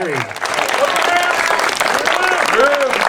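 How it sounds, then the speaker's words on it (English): Wedding guests give the father of the groom a warm round of applause, clapping filling the room while voices call out over it. "That's a big round of applause for the father of the groom."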